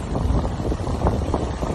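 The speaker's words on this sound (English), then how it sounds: "You can see it's windy because it is." Strong outdoor wind roars and buffets the microphone in a continuous, loud rush for the whole moment, with no voices over it.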